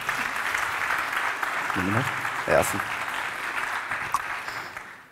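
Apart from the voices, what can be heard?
audience applause as volunteer comes on stage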